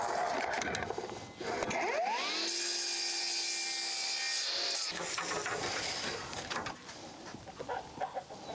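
A miter saw set to 22.5 degrees cuts through a deck board for an octagonal gazebo floor, a rising motor whine and a few seconds of steady grinding bite, then a spin-down amid nearby rustling.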